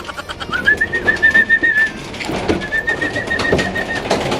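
Pigeons coo in a loft at feeding time, soft throaty calls amid a busy rustle of wings and movement, with a thin sustained whistle tone drifting in twice over the steady close background.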